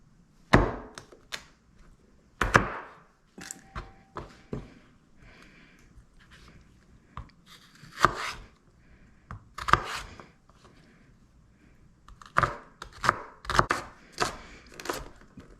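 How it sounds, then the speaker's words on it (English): A knife chops celery on a wooden board in irregular bursts of sharp, close thunks, some quick runs of cuts and some single strokes, separated by quiet gaps. "next we're gonna cut up some celery"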